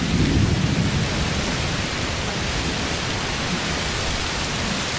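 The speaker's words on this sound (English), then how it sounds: "Oh, it's raining a lot." Dense, heavy rainfall in the video game A Plague Tale roars steadily throughout, with a low rumble of thunder swelling near the start; loud and continuous, no voices.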